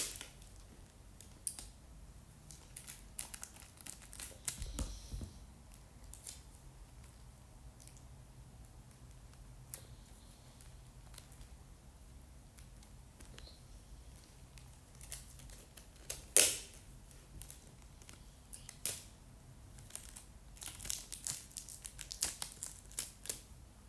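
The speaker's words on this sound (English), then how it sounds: "Now I'm just gonna tape some of the holes that came" Tape being stuck over holes in a handmade DIY squishy, faint soft crinkles and taps scattered through a quiet room, with a few sharper clicks.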